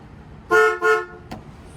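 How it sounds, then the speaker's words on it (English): A car horn, newly repaired after sitting unused, honks twice in quick succession, loud and near, followed by a brief click in an otherwise quiet space. "Scraps has a horn now"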